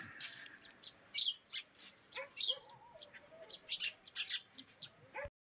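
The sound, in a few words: birds chirping at the start of spring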